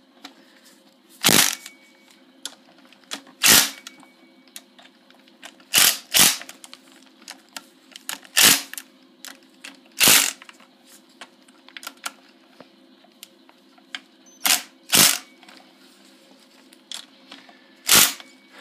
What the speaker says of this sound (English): It takes a while to tighten this all down